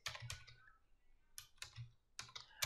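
Quick bursts of close computer keyboard typing while entering C++ code, with short clusters of clicking keystrokes separated by brief pauses in a quiet room.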